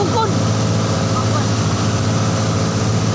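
A divers' boat engine rumbles steadily underneath on a calm sea, a constant low drone with faint voices over it.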